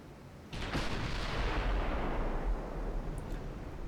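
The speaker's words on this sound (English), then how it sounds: "Keep firing those HE shells." Heavy naval guns of a dreadnought battleship fire high-explosive shells in a Spanish campaign naval video game, a loud booming blast rolling into a long rumbling roar that sustains for several seconds without talk.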